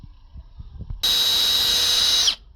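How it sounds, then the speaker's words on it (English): An electric drill drilling out a snapped bolt whines loudly at a high, steady pitch for about a second, then winds down and stops. "drill that back out"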